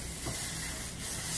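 Hairspray hisses from a can in a continuous, close spray aimed at the roots of the hair, steady for about a second and a half.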